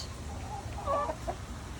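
Chickens in a coop, a rooster with his hens, give a few soft, brief clucks over a steady low background hum, faint and somewhat distant.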